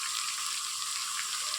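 Chopped tomato and onion with turmeric sautéing in a pan, a brief, steady close sizzle with a soft bright hiss, no talking.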